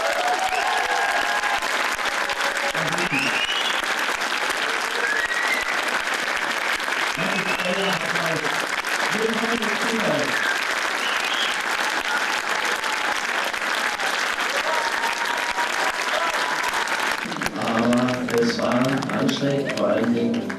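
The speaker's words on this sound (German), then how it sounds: "Mit einem donnernden Applaus wurden die beiden in Zwickau begrüßt" Loud, sustained applause from a cinema audience greeting actors Henry Hübchen and Anton Taue at the Astoria Filmpalast in Zwickau, with scattered voices and murmurs mixed into the dense clapping throughout.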